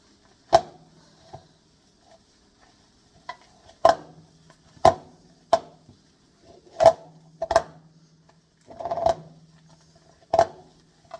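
Cold cake for cake pops being mixed by hand in a bowl, with sharp, sparse knocks and taps at irregular intervals, close and fairly quiet between hits, no talking.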